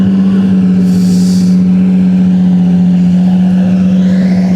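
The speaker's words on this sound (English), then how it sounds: "That, ladies and gentlemen, is the sound of a Lamborghini V12." A Lamborghini V12 engine running at a loud, steady idle with a deep, even hum, and a short hiss of air early on.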